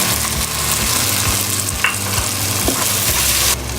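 Tomato sautéing with garlic and ginger in a pan for pav bhaji, a loud steady sizzle with a spatula stirring and scraping at a regular pace, plus a few clicks against the pan.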